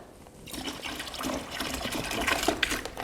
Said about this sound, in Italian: Metto ammoniaca, acqua calda,